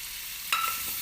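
Turmeric and chili powder frying in oil in a pan for a tiffin paneer recipe, a steady close sizzle that flares brighter as something stirs in midway.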